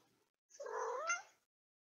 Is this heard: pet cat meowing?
yes